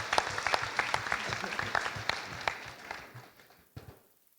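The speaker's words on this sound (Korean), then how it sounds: "우리 박수로 환영하도록 하겠습니다." A church congregation claps to welcome guests onto the stage. The applause is moderate and fairly close, thins out and fades to quiet after about three seconds.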